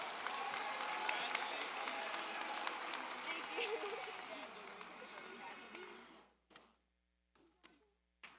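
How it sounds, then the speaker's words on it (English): Graduation audience applauding the ITHS Class of 2024 at the ceremony, a broad sustained clatter of many hands that fades out near the end, leaving a few scattered claps. "give yourselves a big round of applause"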